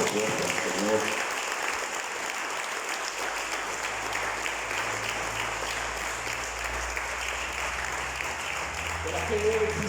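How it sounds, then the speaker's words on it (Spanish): A church congregation applauds loudly and steadily for about ten seconds, a dense continuous clatter of many hands filling the room, with some voices faintly mixed in underneath. "Hermano, denle un aplauso fuerte al Señor"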